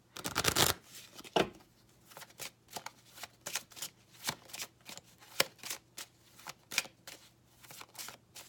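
Tarot deck being shuffled, a quick riffle at the start followed by a series of soft, irregular card taps and slides, close and quiet.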